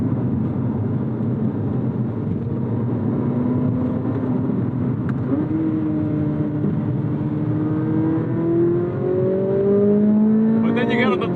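A Chevrolet Corvette Z06 (C8) engine pulls hard under throttle from inside the car, its droning note climbing steadily in pitch as revs build, loud and close, with a voice speaking over it.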